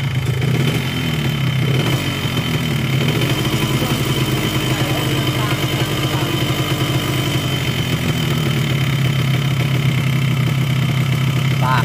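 A Suzuki RS King two-stroke motorcycle engine with a rough-running fault idles steadily and close by, its low throb uneven and rough with a rattling, chattering texture throughout.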